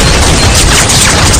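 Gunshot in a movie scene, heard as a loud, dense burst of blasts filling the whole moment with no talk over it.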